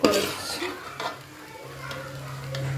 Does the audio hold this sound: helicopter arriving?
no